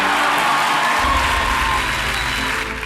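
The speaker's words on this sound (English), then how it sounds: "Those of you watching at home may wonder why this is being applauded." A large audience at the CPAC conservative conference applauding, a loud, sustained wash of clapping with faint cheers that tapers slightly toward the end.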